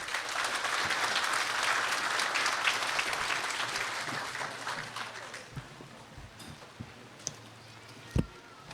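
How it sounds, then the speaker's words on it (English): Applause at an outdoor Armed Forces Day ceremony: a crowd claps steadily for several seconds, then fades to scattered claps and knocks, with faint voices beneath. "please give them all a round of applause for making today possible"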